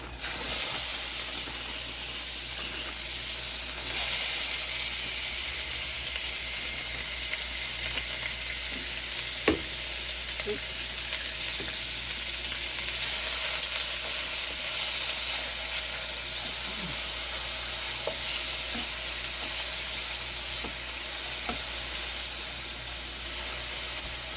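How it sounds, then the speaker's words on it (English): Beef sizzles and fries steadily in a very hot wok with peanut oil, a dense continuous hiss lasting throughout with a few faint clicks and knocks of stirring, close and fairly loud. "So we get that whisk of smoke again coming up, meaning the pan is very hot. So I'm going to add the meat."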